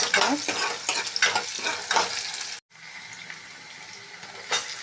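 Garlic and shallots for taro root kara kulambu sizzle and fry in a hot pan while a utensil stirs with repeated scraping strokes; a brief pause, then steady sizzling continues.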